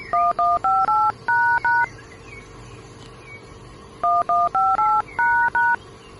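Telephone keypad tones, two quick bursts of six beeps each in a steady rhythm separated by a short pause, clear and close over quiet background noise.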